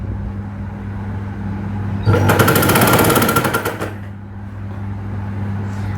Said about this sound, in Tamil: ஒரே 1/4 இன்ச்சில் தைக்கிறேன்